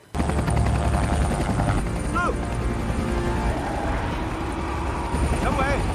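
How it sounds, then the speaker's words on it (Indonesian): A helicopter's steady rotor drone dominates throughout, loud and close, with faint squealing tones briefly rising over it. "Lu mengerahkan beberapa helikopter untuk mencari 2 bus yang hilang."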